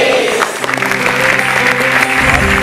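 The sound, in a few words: audience applause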